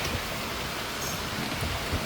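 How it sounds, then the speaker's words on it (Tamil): Heavy rain pours steadily during severe flooding weather in Sri Lanka, a dense, even hiss of water with occasional louder patters, close and continuous with no speech. "மழை பெய்ய அடித்து கொண்டே இருக்கு"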